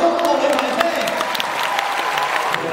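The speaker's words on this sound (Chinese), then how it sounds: "首先，我哋一齐全场俾啲掌声，中国女排先。" An audience in an indoor arena applauds the China women's volleyball team, a dense patter of clapping from a crowd that carries steadily throughout, with a voice over a PA heard through it.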